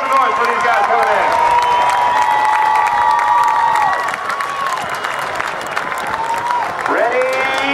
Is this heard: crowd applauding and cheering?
yes